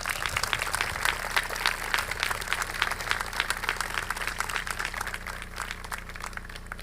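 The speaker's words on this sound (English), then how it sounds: "let's give your families a big round of applause" A crowd applauds steadily throughout, dense clapping that stays loud and gradually eases slightly toward the end.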